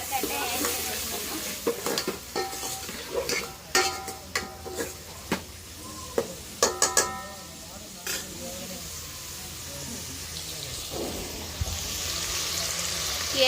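Onions and curry leaves frying in a pan, a steady close sizzle and hiss with repeated scraping stirs and clinks of a spoon against the pan, the stirring easing off toward the end while the frying continues.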